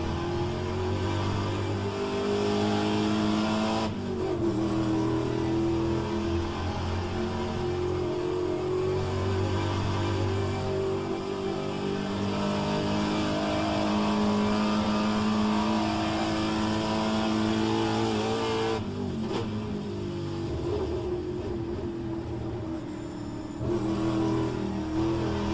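Race car engines roar continuously in a racing video game against Mustangs, a loud sustained drone with rising and falling revs and shifts, dropping briefly around a gear change before surging again.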